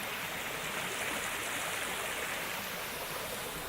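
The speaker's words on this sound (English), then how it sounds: "There's a little river right here." A small river flows steadily nearby in a botanical garden in Malaysia, a continuous soft rushing and splashing of water with no voices over it.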